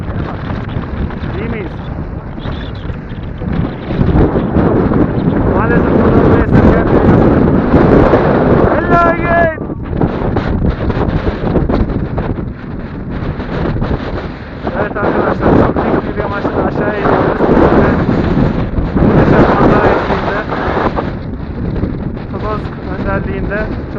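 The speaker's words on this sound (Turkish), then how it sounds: "müthiş bir rüzgar var yine" Strong wind on a mountain climb roars and buffets the microphone in loud gusts, with a voice talking intermittently underneath the blustery rumble.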